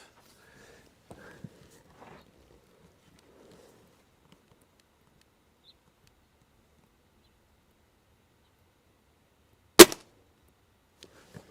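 A single sharp crack of a Gamo Swarm Viper airgun shot, brief and fairly close, sounding alone after a quiet stretch of faint rustling and handling noises.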